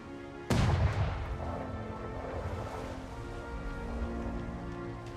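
A single heavy ship cannon boom bursts out in a video game, followed by a long rumbling decay and crackling debris under a steady roar.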